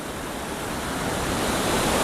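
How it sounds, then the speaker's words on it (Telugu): Pantamanu waterfall near Gopputhodisela, a steady broadband roar of falling water, loud and close, rising slightly over two seconds with no voices. "చాలా బాగుంది వాటర్ ఫాల్"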